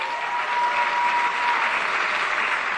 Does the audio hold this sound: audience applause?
yes